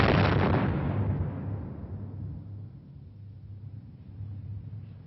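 A sonic boom from a supersonic aircraft hits as a loud sharp blast at the start, then rolls away into a long fading rumble that trails off over several seconds.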